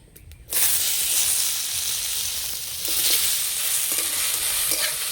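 Unwashed sliced potatoes hit a little hot oil in a heated karahi, bursting into a loud, steady sizzle after a brief quiet moment and then frying on continuously, close up.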